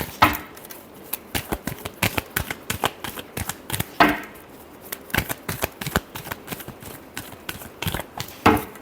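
Tarot cards being shuffled by hand, a close sequence of crisp riffling flutters and sharp taps in a loose rhythm, with a few louder snaps as the deck is squared, and no talking.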